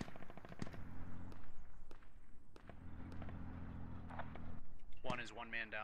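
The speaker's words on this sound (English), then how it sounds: "Taking fire from the VCP also." Gunfire in the military shooter Squad during a large one-life team assault, with sharp shots cracking at intervals over a low rumble, some near and some distant, and a voice speaking briefly at the end.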